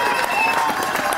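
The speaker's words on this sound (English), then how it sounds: "Round of applause, please." A crowd applauds a new cyclocross national champion at a post-race interview in Baltimore, a brief burst of dense clapping mixed with crowd noise.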